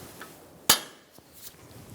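A hammer strikes a punch once to knock out a strut bolt on a 2012-2020 Chevrolet Sonic front suspension, a single sharp metallic clink at close range, followed by faint ticks.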